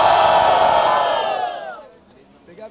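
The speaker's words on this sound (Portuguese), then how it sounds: "Barulho só pra quem achou que foi Fael" A crowd at a Brazilian rap battle semifinal roars and cheers loudly at once, the sustained shout fading away within about two seconds.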